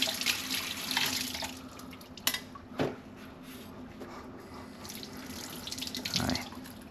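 Food is rinsed under a running kitchen tap, a steady close hiss of water into the sink with a few brief splashes and soft knocks from handling, no talking.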